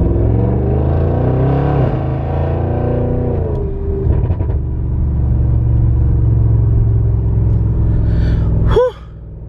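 An Audi RS6 Avant accelerates hard, its engine droning loud and steady with rising pitch as it picks up speed, then cutting off abruptly near the end with a brief sharp sound.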